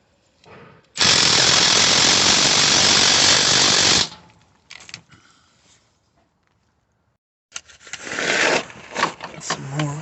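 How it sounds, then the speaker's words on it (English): An impact or air tool rattles loud and continuous for about three seconds, undoing 16mm under tray bolts on a Range Rover Vogue, followed by scattered metallic clinks and a second, shorter burst of tool noise. "Now we're going to get off these bolts from the under tray here."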